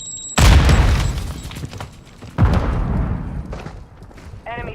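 A Semtex grenade detonates in a first-person shooter video game, with a loud booming blast, a second heavy explosion about two seconds later, and rumbling debris between them; game voice callouts and electronic chirps sound around the blasts.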